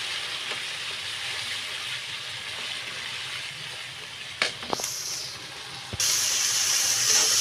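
Spice masala with yogurt sizzles in a pan, a steady faint frying hiss with a couple of brief clatters, then it grows a bit louder and brighter near the end.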